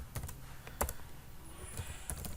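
Typing on a computer keyboard, a few scattered faint key taps and clicks in a quiet room.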